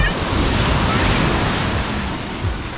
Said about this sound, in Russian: какая волна идет.